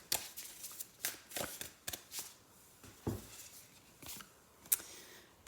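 Astrology cards shuffled by hand in a series of close, soft riffling bursts with brief pauses between them, alone.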